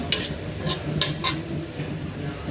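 Dried chillies and garlic fry in hot oil for tempering, a steady close sizzle broken by four quick metallic clinks of a utensil against the pan, no voices.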